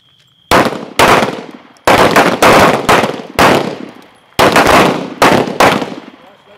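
Handgun shots ring out during night shooting training at Gunsite, loud close reports fired in quick pairs and bursts with brief pauses between strings, echoing sharply.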